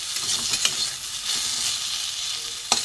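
Steady sizzling of vegetables frying in a hot pan for a dry chorchori, with a few faint stirring clinks and one sharp scrape near the end.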